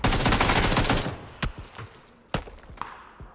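Gunfire in the battle royale game PUBG: a dense, loud burst of rapid automatic shots, then two sharp, separate reports and a fainter pop trailing off.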